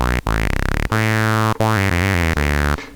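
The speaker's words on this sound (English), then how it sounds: "let's listen to the notch filter just for fun." An Arturia MiniBrute synthesizer plays a run of sustained, buzzy notes through its notch filter, with sweeping tones and short gaps between notes, loud and close with nothing else heard.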